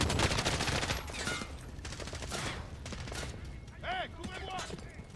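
Sustained machine gun fire in the video game Modern Warfare 2019 sounds loud and dense throughout, with chirping game effects and shouted callouts mixed in.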